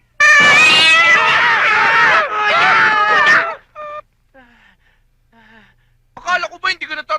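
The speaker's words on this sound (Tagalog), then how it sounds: "Nagulat ako sa pusa." A cat yowls loudly in two long, wavering cries, followed by shorter fainter mewls and a burst of agitated sounds at the end, set in a Filipino comedy film scene.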